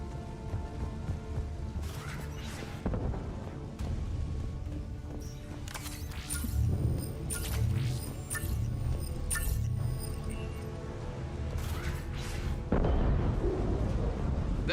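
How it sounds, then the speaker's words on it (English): Space battle in the video game Mass Effect 3 as a fleet of ships opens fire, a dense barrage of booming weapon blasts, crashes and rumbling explosions layered over a continuous loud roar, with several sharp bursts standing out. "All ships, you're free to fire."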